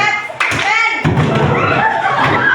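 Body percussion in a classroom: hand claps and chest or thigh thumps in a steady alternating rhythm, loud and close, mixed with voices calling out the pattern.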